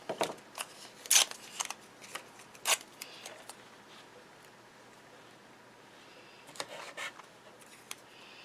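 Purple craft tape being pulled and pressed down to secure a stencil on a craft mat, heard as a few quiet crackling rips and taps, clustered early and again near the end, with a soft hiss of room noise between.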